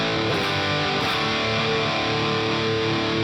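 Loud, heavily distorted electric guitar chords ring out continuously, thick with buzzing overtones and sustain, with no voices.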